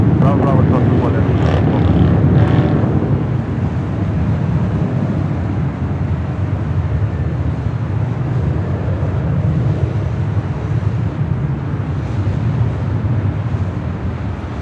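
Airliner rolling down the runway at LAX, a steady low engine roar with wind buffeting, louder at first and then easing into a continuous distant rumble, with voices talking over it.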